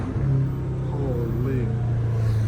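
Deep, steady engine drone from a catless BMW M5 Competition under acceleration, a continuous low roar with a rising tone, heard from inside the car at moderate loudness.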